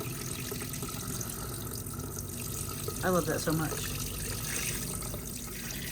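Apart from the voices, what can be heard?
RV waterfall sprayer faucet running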